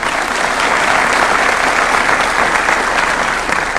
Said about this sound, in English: Maybe you can applaud for that.